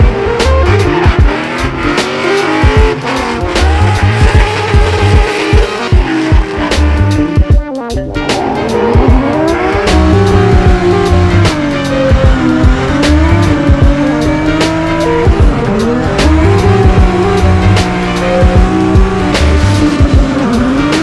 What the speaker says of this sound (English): I'm about to hop in this GR86 and burn some Accelera tires